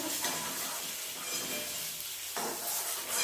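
Steady sizzling and hissing of rohu fish frying in a pan, with occasional scraping of a utensil, close and continuous.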